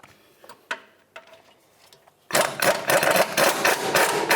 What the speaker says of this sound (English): the next thing we want to do is use our 19mm socket. We're going to remove this bolt right here.